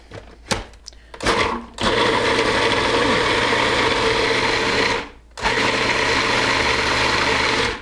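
A food processor whirls chickpeas, tahini and garlic into hummus: a few short pulses, then a loud sustained motor whine that briefly stops and starts again.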